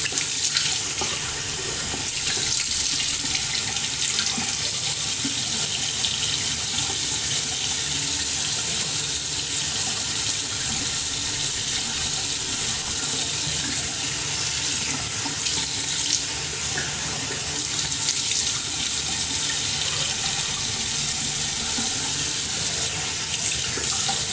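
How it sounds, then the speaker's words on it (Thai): A tap runs steadily into a sink while someone washes their face, a loud continuous rush of water that goes on without a break and carries no speech. "ขณะที่ดิฉันล้างหน้า"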